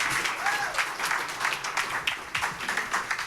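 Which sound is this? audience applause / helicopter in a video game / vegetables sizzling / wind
audience applause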